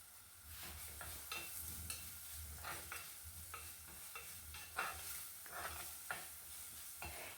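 Dried fish curry ingredients sautéed in a pan, with repeated scraping stirs over a steady, close sizzle and no voices.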